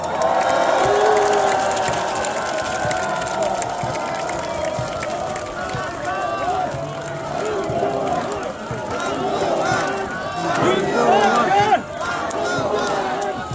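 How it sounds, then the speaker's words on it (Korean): An outdoor crowd at a press event in Olympic Park cheers and applauds, voices shouting over scattered clapping, with talk and a steady roar of many people throughout. "박수 한번 부탁드리겠습니다"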